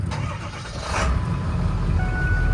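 A 2002 Ford F-350 Lariat diesel engine cranks and starts, rising to a steady, loud idle rumble heard close up with no talking.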